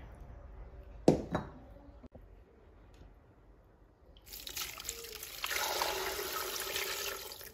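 Water pours into a pot of beans with olive oil and cumin in a home kitchen, a steady broadband splashing rush that starts partway through after a few faint clinks and keeps running loud to the end.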